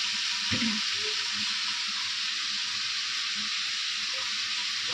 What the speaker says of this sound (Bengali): এখন তো তেলটা ভাজা হবে তেলটা ভাজা হবে